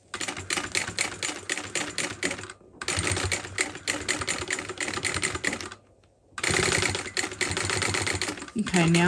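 A sewing machine stitches a seam on an Isabella bag from Petal Designs, running in long rapid bursts of dense rattling with two short pauses, loud and close, with a voice near the end.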